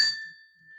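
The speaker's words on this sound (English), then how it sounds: "This daggone bell, I can't wait." A single small bell gives one bright ding, its clear tone ringing on and slowly fading.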